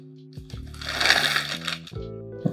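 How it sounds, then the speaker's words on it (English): Metal screws from a PC case accessory box are handled and shaken, giving a close, bright jingling and clinking rattle that swells in the middle and ends with a few small clicks. "Now we get the screws that comes with the case."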